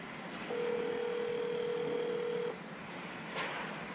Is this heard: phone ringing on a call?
yes